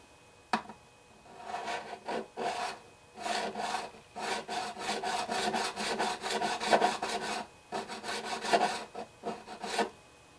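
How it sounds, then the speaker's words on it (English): A 150 grit crowning file works the frets of a Martin HD-28 guitar in repeated close, raspy back-and-forth strokes, grouped in bursts separated by short pauses. "first I use the 150 grit crowning file"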